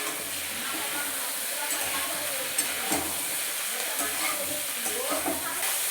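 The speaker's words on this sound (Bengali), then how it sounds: "এরপর আমি ঝিঙেগুলো হালকা করে ভেজে নেব।" Ridge gourd pieces fry lightly in an oiled pan, giving a steady close hiss and sizzle with a few soft clinks of stirring scattered through.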